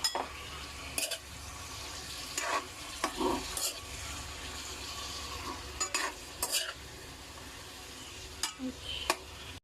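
Chicken stirred and stir-fried in a pan for chopsuey, a soft steady sizzle under intermittent scraping and clacking of a spatula against the pan, fairly quiet.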